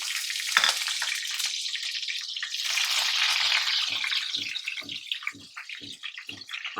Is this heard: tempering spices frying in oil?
yes